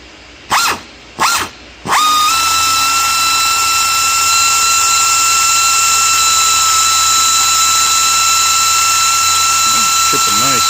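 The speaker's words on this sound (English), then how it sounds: "trying to get that stinking cotter pin out of that stay pin for the monoshock, and got to drill the nice drill bit in it" A power drill whines steadily for several seconds, boring out a stuck cotter pin from the monoshock stay pin of a 1982 Yamaha XT200, loud and close after a few short bursts.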